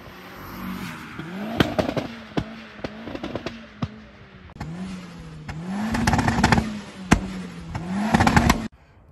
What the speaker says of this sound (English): It sounds amazing. Charters and flutters, crazy. So, and pops and bangs